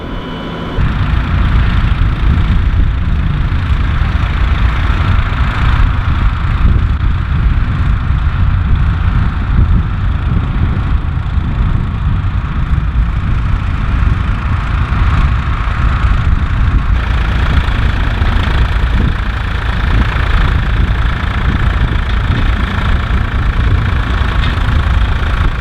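A Ford 3930 tractor engine idles steadily at close range for the whole stretch, a loud, continuous rumble with no voices over it.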